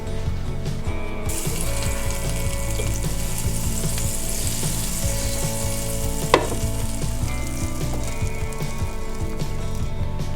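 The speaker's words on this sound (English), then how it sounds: "now we're gonna sear our quesadillas" Oil and butter sizzle in a pan readied for searing vegetarian quesadillas, a steady crackling fry throughout with a brief sharp clink partway through.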